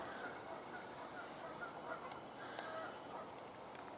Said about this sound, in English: Yeah, these geese